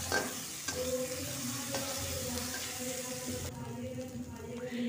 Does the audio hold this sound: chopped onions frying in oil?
yes